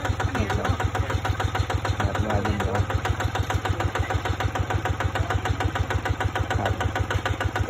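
A Pem1408Pius rotary machine churns a clay rice paddy, its engine running steadily close by with a fast, even pulsing throb that holds throughout.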